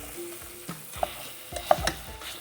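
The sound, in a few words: sausage browning in a hot pan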